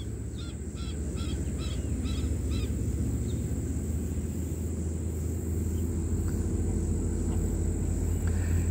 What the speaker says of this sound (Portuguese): Esses patos marrecos e gansos, mesmo que queiram afogá-los, não tem jeito.